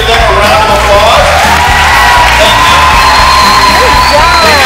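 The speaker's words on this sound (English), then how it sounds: "Please give them a round of applause." A crowd at a camp event cheers, whoops and yells with applause underneath, loud and close, with children's voices and shouts rising and falling over continuous clapping.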